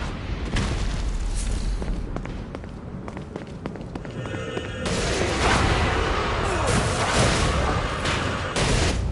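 Explosions and weapon fire from the video game Saints Row: Gat out of Hell as a shield is destroyed, with heavy booms and rapid blasts that swell louder midway and continue in dense bursts.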